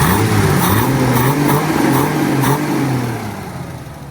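A warm Citroën Traction 15 Six engine with a freshly rebuilt, balanced crankshaft and flywheel idles loudly and evenly at close range, a steady low hum with slight rises in pitch before easing off at the end.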